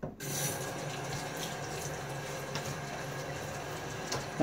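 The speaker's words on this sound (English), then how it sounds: "and not really a rinse, just a splash of water." Water runs steadily from a bathroom sink tap for a splash on the face after a shave with a Gillette Nacet blade, a close, continuous broadband rush with a few small splashy bumps.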